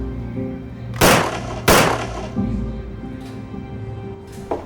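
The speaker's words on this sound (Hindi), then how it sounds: "दोनों शॉट एकदम सही जगह पर लगे।" Two sharp, loud gunshots fired at a shooting target, about half a second apart and close by, each trailing off into a fading echo, followed by quieter thumps.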